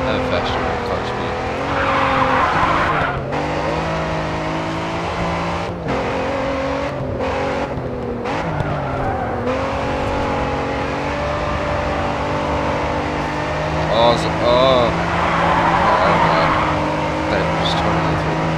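Race cars in the Grid 2 racing game roar continuously with engine revving and tire squeal through skids, loud and sustained, with a voice talking over them.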